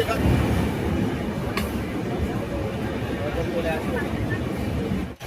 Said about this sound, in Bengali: বারোটা তেরো মিনিটে কিন্তু দীঘা স্টেশন থেকে আমাদের কান্ডারি এক্সপ্রেস ট্রেনটি রওনা দিল হাওড়ার উদ্দেশ্যে